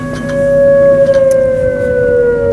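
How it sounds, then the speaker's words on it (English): A tornado siren wails steadily from a distance across a lake cove during a Catalina 22 sail, a loud sustained tone that slowly falls in pitch. "Tornado sirens"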